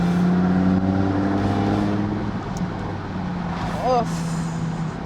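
A Lamborghini Huracán EVO engine drones steadily at close range, its tone shifting as revs change, with a brief whine rising near the end and talk mixed in over the engine.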